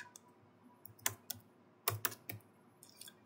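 Keys clatter on a computer keyboard in quick, uneven bursts of close, crisp clicks, with a short pause between groups of taps and no voice present.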